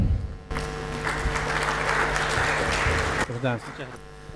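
An audience at a university petroleum conference applauds to welcome engineer Gastón Arrieta, steady clapping lasting a few seconds before it stops abruptly, followed by a voice speaking.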